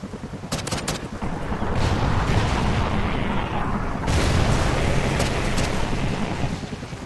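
A rocket explosion during a Call of Duty: Ghosts multiplayer Domination match, with a dense, roaring boom and rumble under scattered gunshots, loud and sustained with a second heavy blast partway through.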